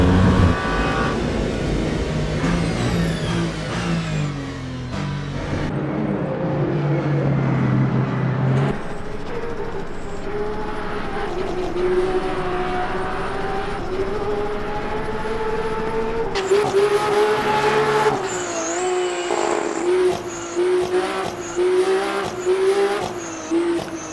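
Race cars run flat out on the Porsche curves in Le Mans Ultimate at the 24 Hours of Le Mans, engines droning and shifting pitch as they pass, with a faint tire squeal near the end.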